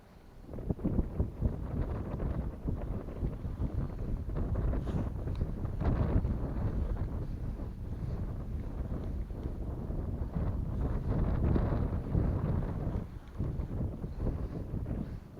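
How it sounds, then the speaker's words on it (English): Steady wind gusts rumble and buffet the microphone out on a frozen lake during ice fishing, loud and continuous with slight swells, and no voices. "The wind is starting to pick up in this corner now."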